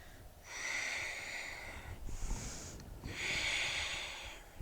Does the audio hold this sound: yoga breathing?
yes